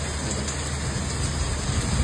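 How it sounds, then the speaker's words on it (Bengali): A dense, steady hiss of hail pelting down, loud and continuous with no pauses. "শিলা বৃষ্টি হচ্ছে, স্নোফল হচ্ছে"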